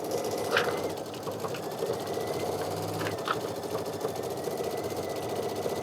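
An embroidery machine stitches a decorative flower-patch design onto a Kimberbell mug rug, giving a steady close mechanical whir with a fast rhythmic needle clatter and a few faint clicks throughout.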